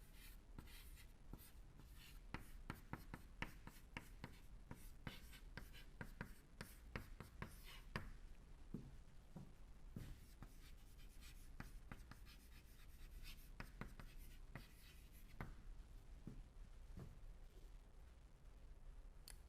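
Chalk or marker tapping and scratching on a board as an equation is written during a fluid mechanics lecture, a quiet irregular run of sharp strokes and taps throughout.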